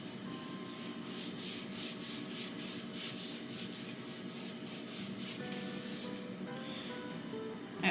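A rag rubbing finish into the wood of a thrifted wall cabinet, a steady close scrubbing with rhythmic back-and-forth strokes that runs throughout at an even level.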